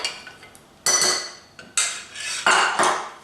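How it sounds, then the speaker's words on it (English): Flapjack ingredients with honey and ginger mixed in a bowl, heard as several distinct clinks and scrapes of a utensil against the bowl in an uneven rhythm, close and fairly loud, with no talking. "I'm just going to mix all of these ingredients together now"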